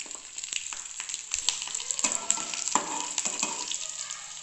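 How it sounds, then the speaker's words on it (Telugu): Garlic frying in a pan over a medium flame after tempering spices, a steady close sizzle with crackles and occasional stirring scrapes, no talking. "ఇందులోనే చూసారా చిట్పట్ అయిన తర్వాత గార్లిక్ మీడియం ఫ్లేమ్లో పెట్టానండి వంట."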